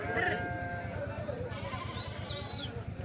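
Sheep bleat at a busy weekly sheep and goat market in Kadiri, mixed into a loud crowd of voices and steady rhythmic background noise, with people talking throughout.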